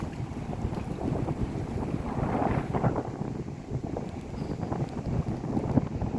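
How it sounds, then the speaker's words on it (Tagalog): Wind blows steadily with soft buffeting against the microphone, a moderate, low rushing sound near water, with no voices. "Hangin guys."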